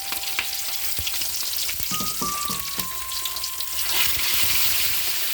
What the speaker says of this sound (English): this is like you would consider like a deep frying